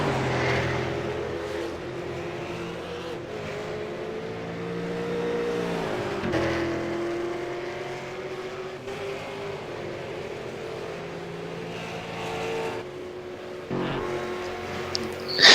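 A race car engine drones steadily on a track, rising and falling as the driver shifts, with an occasional louder surge from nearby traffic and no voices.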